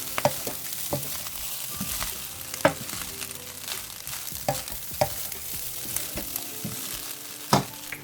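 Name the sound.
fried rice frying and being stirred in a pan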